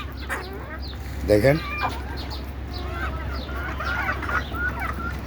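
Native chickens cluck steadily on a rooftop farm, several hens calling close by with one louder burst of clucks, all over a constant low hum and a brief spoken word.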